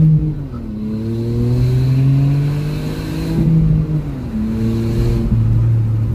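A Hyundai HB20 1.0 turbo engine, 105 hp, with stainless steel exhaust, revs up through several gears, pitch climbing then dropping at each shift, loud and close as if heard from inside the cabin.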